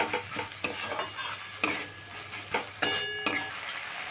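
A spiced vegetable filling with chaat masala and coriander leaves is stirred in a hot pan for kochuri, with repeated sharp spoon scrapes and clinks against the metal over a low, close sizzle, and no voice.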